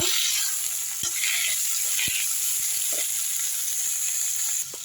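Tomatoes and coriander sauté in a hot pan with a steady, close sizzle and a few soft stirring knocks against the metal, for a spicy brinjal kulambu, with no talking.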